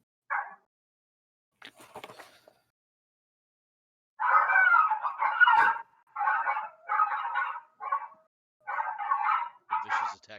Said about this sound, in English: The vicious attack dogs.